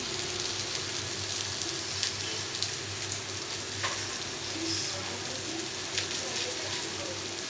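Rice frying with spices in a pan, a steady close sizzle with light stirring scrapes running throughout.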